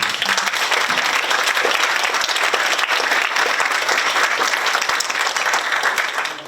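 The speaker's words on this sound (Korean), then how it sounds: "뜨거운 축하와 격려와 감사 박수 부탁드립니다" Sustained, dense applause from a seated audience at an inauguration ceremony launching a Korean-American community council chapter in San Francisco; the clapping stays loud and steady for over six seconds with no speech.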